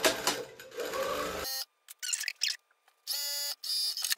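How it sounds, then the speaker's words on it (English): Sewing machine straight stitching the side back pieces to the center back of a shirt dress, short bursts of motor run separated by silences and small clicks, close and fairly quiet. "I am sewing my side back pieces to my center back piece"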